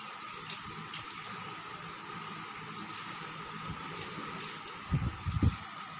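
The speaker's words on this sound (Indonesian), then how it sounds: "Ini 500 ml pertama kita tuang." About 500 ml of water is poured into a container for a cake batter, a steady close rushing trickle ending with a few louder splashy knocks.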